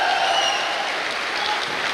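An audience claps in a hall, a dense sustained wash of many hands that fades slightly toward the end, with no speech over it.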